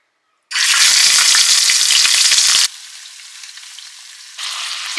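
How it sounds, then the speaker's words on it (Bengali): Prawns rubbed with salt frying in hot oil, a loud bright sizzle bursting in suddenly, then dropping to a quieter steady crackle before swelling again near the end. "চিংড়ি মাছটা না নুন মাখিয়ে ফ্রাই করে নেব।"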